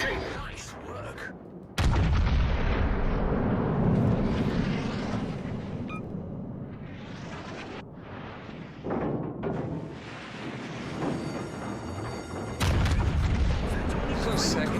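Yamato battleship secondary guns fire in World of Warships Legends: loud booming salvos start abruptly, first early and again near the end, over a rumbling battle background.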